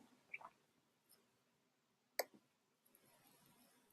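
A few sparse, sharp mouse clicks on a computer while opening a file in Google Drive, isolated ticks against near silence, with one distinct click midway and another at the end.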